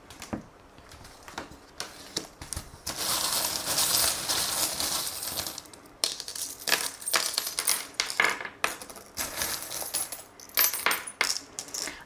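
Small metal divination charms are tossed and shuffled, producing a steady stream of light clinks, taps and rattles, close by and fairly quiet, with busier scattering bursts in the middle and no voices.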